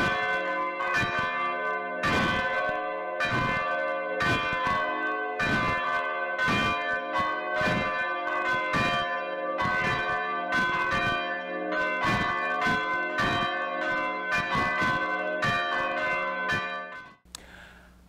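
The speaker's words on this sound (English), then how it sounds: "as you listen and watch the ringing of the Salem bells" Church bells of a Lutheran church and school in Salem ring alone, with loud, evenly spaced strikes and long overlapping resonant tones sustained for nearly the whole span before stopping abruptly.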